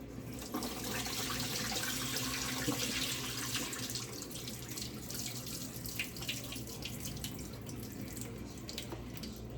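Tap water runs steadily from a faucet into a sink while food is rinsed, a continuous close splashing rush with light drips and clatter throughout.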